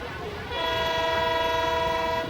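Passenger train bound for New Delhi sounds a loud, steady horn blast lasting nearly two seconds over rumbling rail noise, cutting off abruptly.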